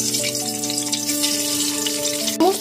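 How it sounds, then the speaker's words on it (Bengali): Hard-boiled eggs are dropped into hot oil with turmeric in a pan over a medium gas flame, giving a steady close sizzle with bubbling tones and a brief clatter near the end. "সমস্ত সেদ্ধ করে নেওয়া ডিমগুলোকে তেলের ওপর দিয়ে দেওয়ার পর গ্যাসের ফ্লেমটা মিডিয়ামে রেখে একটু নাড়াচাড়া করে ডিমগুলোকে ভেজে নেব।"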